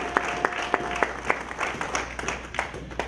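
A church congregation breaks into applause, a crowd clapping with scattered sharp claps and a steady roar of hands, fairly close and loud, with no talk over it.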